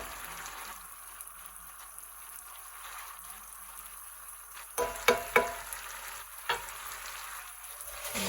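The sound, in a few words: chilaquiles red sauce with cheese sizzling in pan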